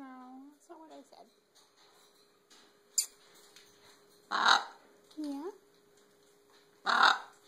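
Pet bird calling loudly indoors: a few short squawks and whistled calls in separate bursts, with louder harsh cries near the middle and end, and a person talking to the bird in between.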